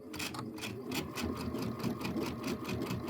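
A Luminaire sewing machine runs a center straight stitch while piecing a traditional quilt block, a steady close whir with a rapid, even needle rhythm throughout and no pauses.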